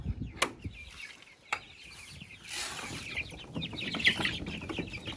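Several chickens cluck and squawk nearby in a busy, continuous chorus, with occasional sharp clicks and rustling.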